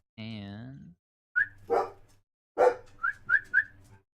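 A dog indoors during a tabletop role-playing game session gives a drawn-out whine, then several short, close barks and high yips in quick bursts.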